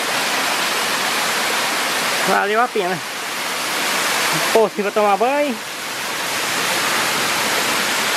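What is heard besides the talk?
waterfall in the Serra da Ponte Nova, Palmeiras de Goiás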